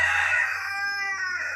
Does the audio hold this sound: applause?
no